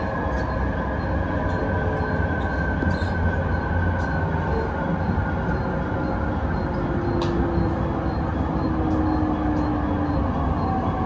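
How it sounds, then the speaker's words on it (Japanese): A local train pulls into the elevated Kumamoto Station, a steady loud rumble of rolling wheels and carriage noise, faint wheel squeals and ticks on top, with no talking. "列車は熊本県の大ターミナル熊本駅にやってまいりました。"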